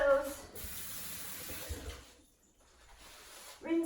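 A kitchen tap runs as breadcrumb-coated fingers are rinsed under it, a close steady splash that drops away midway and returns, with brief voice sounds at the start and end.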